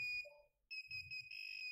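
Arduino buzzer giving short electronic beeps, a brief tone, a pause, then a longer steady high beep, clear and alone.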